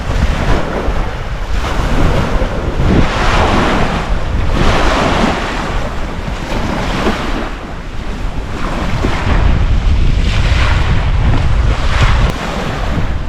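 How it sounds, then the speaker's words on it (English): Strong wind buffets the microphone over steady crashing waves on Comox Lake, a loud continuous roar of surf and gusts with no talking. "Woo, it's windy."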